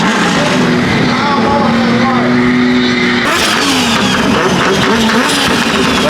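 Big-turbo BMW drift car engine roaring hard and loud, sustained high revs with shifting pitch and turbo whine as the car drifts, close and continuous, with people talking over it.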